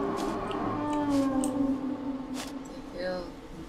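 Siren Head in a horror video game gives a low, wavering siren-like howl with drawn-out tonal wails and faint echoes, loud and close, while a person speaks over it.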